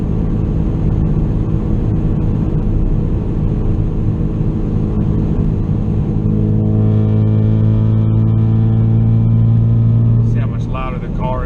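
Inside the cabin of a 2016 Ford Focus RS at about 75 mph, a steady loud engine drone near 3,500 RPM blends with road roar, and the pitch climbs briefly near the end.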